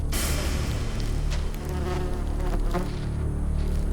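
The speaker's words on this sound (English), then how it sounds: "The Pepsis wasp has what may be the most painful sting in the animal kingdom." A tarantula hawk (Pepsis wasp) buzzes close by in the Sonoran Desert, a steady droning hum with shifting pitch as it moves, loud and continuous with no voices.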